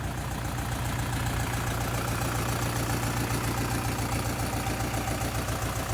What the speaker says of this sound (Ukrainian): Трактор з відкритими дверима.